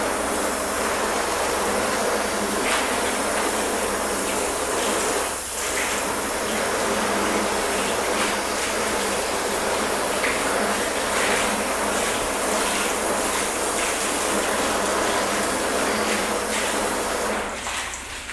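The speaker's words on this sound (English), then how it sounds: "we're going to go ahead and rinse that off" A water hose rinses a freshly washed car panel, a loud continuous hiss and splatter of spraying water lasting throughout, close up and alone.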